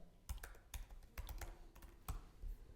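An assignment title is typed on a computer keyboard in quick, uneven bursts of close, crisp key clicks with brief pauses between them, quiet and with no voices.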